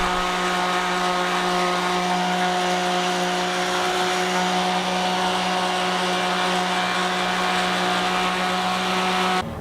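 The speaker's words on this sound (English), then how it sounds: "Then I'll sand the whole thing down." A power sander drones steadily and loudly on a quilted maple guitar body, a constant motor hum with a rough grinding texture that runs without pause.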